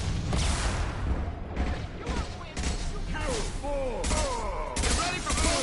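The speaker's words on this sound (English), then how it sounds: "Concussive shot ready." Combat gunfire in Mass Effect 2 around a concussive shot power, a rapid string of sharp shots and impacts with whooshing sweeps and mechanical clatter, loud and close.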